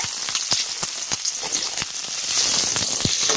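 Garlic and green chillies sizzle in a hot pan while cooking Indian-style pasta, a steady close crackling hiss with sharp pops scattered throughout.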